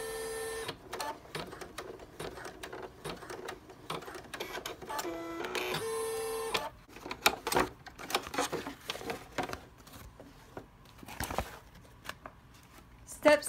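An embroidery machine stitches an in-the-hoop appliqué hand sanitizer holder, a rapid rattling, clicking needle rhythm running continuously with brief pauses.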